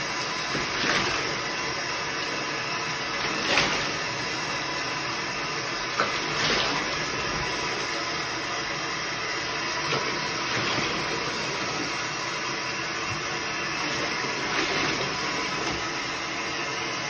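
Tap water runs steadily into a bathtub during a child's bath, a continuous splashing flow with a few louder sloshes, close by and with no talk over it.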